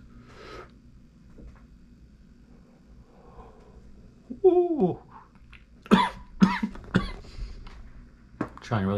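Harsh coughing after a hit from a vape, a strained burst of several coughs up close following quiet breathing, with speech mixed in.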